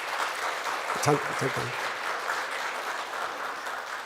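A church congregation at a Sunday service breaks into brief applause, a dense burst of clapping that rises and fades, with a voice speaking over it.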